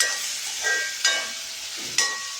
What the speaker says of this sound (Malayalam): ഇത് നമുക്ക് കാച്ചാം. ഉള്ളി മൂക്കട്ടെ.